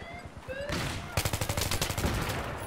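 Gunfire in Battlefield 3 during a bomb-defuse round: a short burst of shots, then a rapid machine-gun stream of sharp, evenly spaced reports, loud and close, with faint background game sounds.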